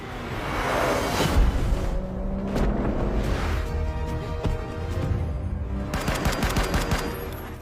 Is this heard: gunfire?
yes